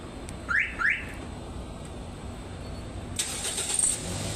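A 2012 second-generation Toyota Vios remote-started with an auto-start kit: two short chirps near the start, then from about three seconds a steady mid-loud engine hum settling in.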